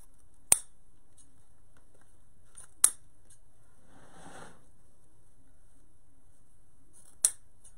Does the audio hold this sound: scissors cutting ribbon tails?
yes